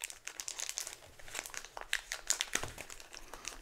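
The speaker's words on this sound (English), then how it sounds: "and we have this little peel open pack." A sterile peel-open pack holding dental healing abutments crinkles as it is handled, with rapid, close rustling and crackling of thin plastic in a quiet room.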